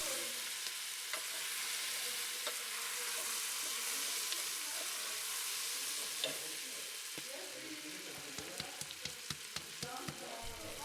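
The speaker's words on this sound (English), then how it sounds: "stir and stir and stir while it's frying" Continuous sizzling of spices frying in a pan, with scraping and light clinks of a utensil stirring, growing more frequent toward the end.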